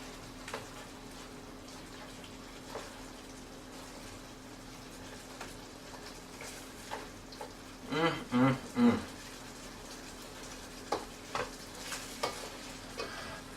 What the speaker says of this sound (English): So we just let that simmer up in here.